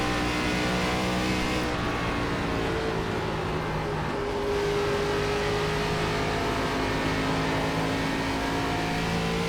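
ARCA race car engine in iRacing at Dover, heard as a loud, continuous engine drone that holds mostly steady with slight pitch rises and dips throughout.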